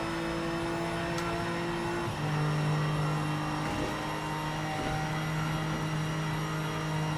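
Car engine in the racing video game Project Motor Racing, a steady sustained drone holding pitch with small shifts as it changes gear, loud and continuous with no talk over it.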